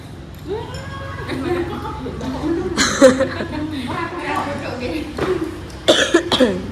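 Several short coughs break through ongoing chatter, with a sharp burst near the middle and a cluster of quick coughs toward the end.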